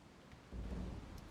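A storm rumbles in the video game Tyranny, a faint low roll of thunder swelling midway over a quiet bed of rain-like hiss, heard alone without talk.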